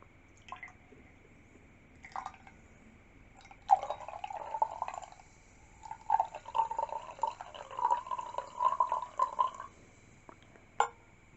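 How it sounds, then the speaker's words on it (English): Bubbly sparkling wine poured into a glass during a jubilee tea, with soft fizzing and trickling and a few quiet clinks, close and gentle, starting in short bursts and then pouring steadily. "let me just pour that for you."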